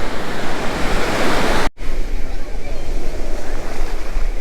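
Sea waves roar steadily at Golden Beach in Puri, a dense, unbroken wash of surf with some wind buffeting; the sound cuts out for a split second, then the crashing rumble resumes just as loud.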